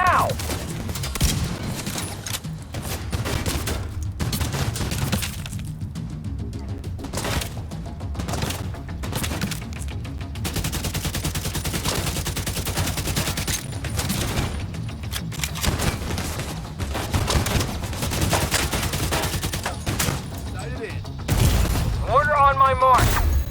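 Repeated mortar blasts and bursts of gunfire in the video game The Division come in dense, irregular volleys throughout. Voices call out among the shots.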